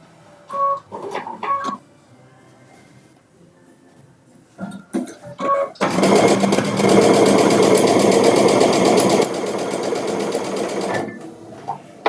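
Sewing machine stitching a pieced quilt backing: a few short clicks and bursts of handling noise, then a loud, steady, rapid mechanical whir for about five seconds before it stops.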